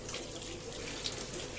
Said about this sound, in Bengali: আমি গোলাপ জল দিলাম কিছুটা